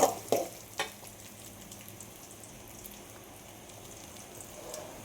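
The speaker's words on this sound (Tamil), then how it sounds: "வெங்காயம் நல்லா வதங்கணும் அப்போ தான் வாசனையாக இருக்கும் குழம்பு" Onions sauté in oil in a pan for a Tamil medicinal kuzhambu, giving a soft, low frying crackle with a few stirring knocks near the start, then a faint steady sizzle.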